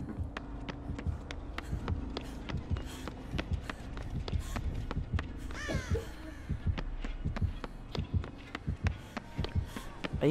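Dead by Daylight heartbeat: a steady, rapid thumping pulse running throughout, loud and close, with footsteps, a brief chirping sound midway and no talk.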